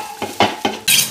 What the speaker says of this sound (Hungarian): jöhet bele a füstölt szalonna kocka bőrrel együtt, alaposan ki fogom sütni